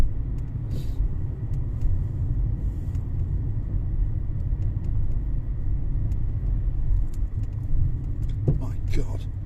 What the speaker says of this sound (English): We've entered Polis and it's a traffic jam from hell.